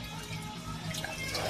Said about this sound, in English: every time it drains, it's really raining down in there now